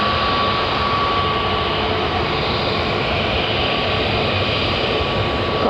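A Qatar Airways Dreamliner jet taxis toward the runway at Manchester Airport, its engines giving a steady, loud, broad whine and roar that holds constant throughout with no talking.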